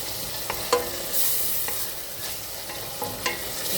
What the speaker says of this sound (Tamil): வெங்காயம் பூண்டெல்லாம் வதக்கிட்டு தக்காளி போட்டேன்